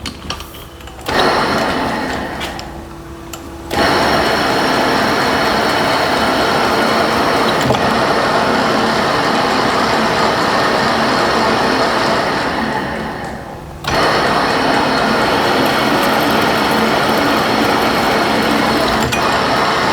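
A metal lathe cutting threads in an industrial workshop, a loud steady mechanical whir with a rhythmic ticking texture, briefly cutting out twice before running on continuously.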